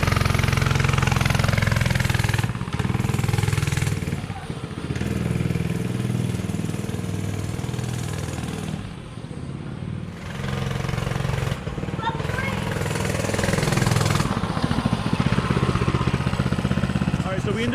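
A Coleman CC100X mini bike's small engine runs on a test drive, a rough buzzing putter that rises and dips with throttle, with brief drops, heard up close amid occasional voices.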